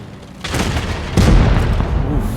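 Tank cannon shots in World of Tanks Blitz, from a TS-5 tank destroyer battle: two loud, close booming blasts about a second apart, each followed by a rumbling tail.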